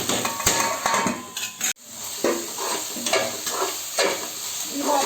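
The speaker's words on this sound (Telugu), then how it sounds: "దీన్ని ఒక 1 minute ఫ్రై అవ్వనిద్దాం." Coconut rice ingredients fry in a pan with a continuous close sizzle, while a spoon stirs and clatters against the metal in repeated strokes.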